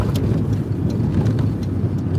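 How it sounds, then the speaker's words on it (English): A car passing nearby, a steady low rumble of engine and road noise holding loud throughout with some wind buffeting, no one speaking over it. "Oh wow, there's a car."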